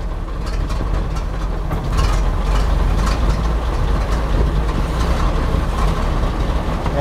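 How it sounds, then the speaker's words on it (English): A 1913 Pilot car engine runs steadily with a low, rough rumble and chugging pulses, close by and continuous, no voices. "Voila, running car."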